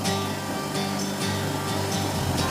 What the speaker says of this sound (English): That noise is just this live centre